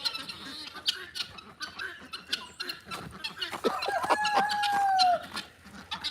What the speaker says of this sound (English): Roosters crowing because they're happy just to be alive and not in the freezer